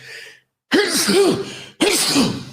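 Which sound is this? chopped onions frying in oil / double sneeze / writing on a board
double sneeze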